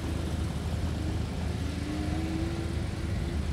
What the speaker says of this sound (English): That car sounds pretty good,